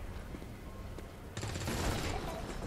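Gunfire in XCOM 2: War of the Chosen, a burst of shots fired at a berserker, rising to a dense, loud stretch of rapid fire over steady game ambience, with a voice talking alongside.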